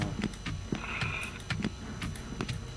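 A guttural, rasping throat-clearing sound from a video game monster, close and repeated in short rough bursts with some clicks.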